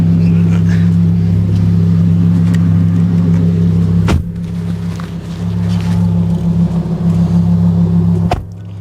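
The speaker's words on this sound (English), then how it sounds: "Amar, jump in the passenger seat, let's go for a drive" Audi R8 sports car heard from inside, a loud, steady low engine drone that briefly drops away twice, near and continuous with no talking.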